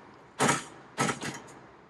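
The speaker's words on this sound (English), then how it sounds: "Let me close the gate first." A gate closing at an apartment entrance during a renovation: two close, sharp metallic creaking scrapes about half a second apart, the second followed by a shorter clack, in a quiet room.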